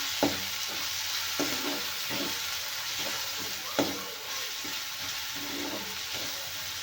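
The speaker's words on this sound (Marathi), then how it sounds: "आपण ये एक टोमॅटो घालूया कापलेला तोही परतून घेऊया" Chopped tomato frying in oil gives a steady, close sizzle, broken by several scraping stirs and a few knocks of the spatula against the pan.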